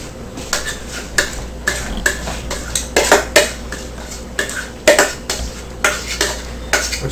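A spoon mixes spinach, cheese and egg filling in a bowl, clanking sharply against the sides in quick irregular strikes over a steady scraping churn, close and loud, with no voices.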